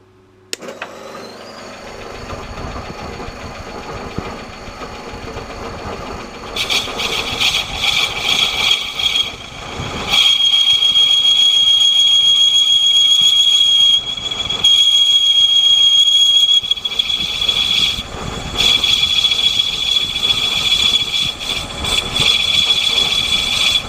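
A TV-320 lathe runs while cutting out the valve seats of a Kawasaki ZX14 cylinder head, a steady mechanical hum rising to a loud, shrill metallic squeal and whine as the cut engages, with brief interruptions.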